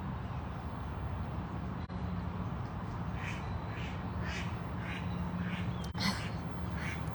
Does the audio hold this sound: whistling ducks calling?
yes